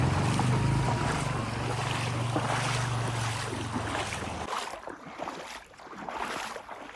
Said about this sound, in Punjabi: ਹੁਣ ਧੱਕਾ ਮਾਰਦਾ ਪਾਣੀ